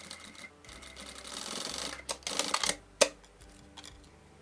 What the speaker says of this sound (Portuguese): Aí aqui eu vou levar para a máquina e vou prender essa outra ponta aqui com pontinhos de segurança